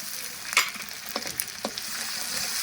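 Garlic, cumin and ginger paste frying in oil for a Bengali pabda fish curry, a soft steady sizzle with a few brief stirring clatters, close and alone.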